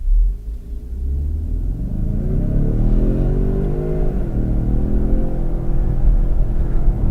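A turbocharged car pulling away slowly from a standstill, its engine a loud, close low rumble that rises steadily in pitch as it accelerates, with no talk over it.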